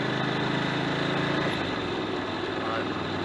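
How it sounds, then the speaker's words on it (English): A motorbike engine runs steadily with a slight rattle, a constant close, loud mechanical drone with no change in pace. "I think I can hear a slight rattle in the engine now."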